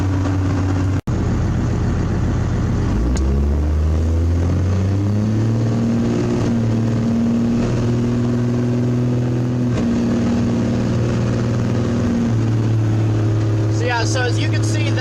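An old first-generation Cummins diesel truck with advanced timing pulls hard from a standstill, its loud, steady engine drone climbing through several gear changes over about fifteen seconds, with faint chirping near the end.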